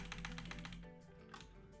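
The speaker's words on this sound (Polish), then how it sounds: "bo moja klawiatura jest dość głośna" Loud computer keyboard keys clicking rapidly in quick bursts during a Fortnite session, close and clattery, with other game sounds underneath.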